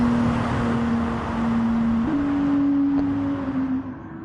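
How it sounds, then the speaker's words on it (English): A steady, droning race car engine tone in a video game holds one pitch, then steps up slightly partway through, like a car engine revving, with a hiss of background noise. "Jake, I think the car sounds better than ours."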